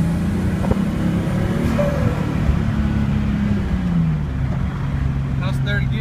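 Turbocharged Datsun 280ZX pulling hard in third gear, a steady loud engine roar with rising pitch recorded from inside the car; a voice is heard briefly over it.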